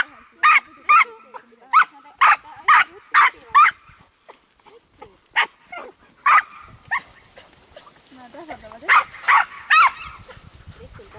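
A herding dog barks in repeated loud, sharp bursts at a flock of young sheep, the barks coming in quick clusters with pauses between them and people talking now and then in the background.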